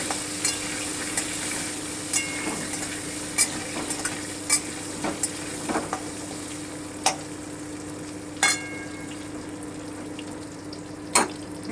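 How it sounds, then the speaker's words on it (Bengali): Potatoes sizzle in hot oil with a constant crackling hiss, broken every second or so by sharp clinks and scrapes of stirring. "আমি আলুগুলো দিয়ে দিচ্ছি আলুগুলোকে আমি ব্রাউন করে ভেজে নেব"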